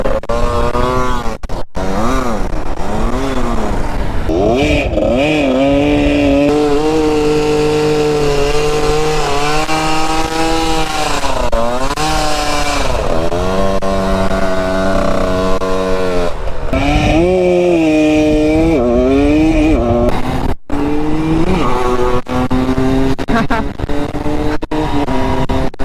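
A Husqvarna SM 125 supermoto motorcycle is revved at full throttle during a burnout, loud and close, with repeated rising and falling engine howls and continuous tire-spinning roar throughout.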